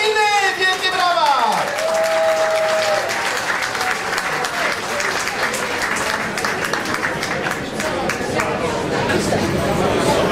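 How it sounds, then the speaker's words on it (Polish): A packed audience at a rock'n'roll anniversary concert at the Blue Note club in Poznań breaks into loud, sustained applause, with crowd chatter and voices mixed in and a brief whistle-like tone at the start. "Wielkie brawa!"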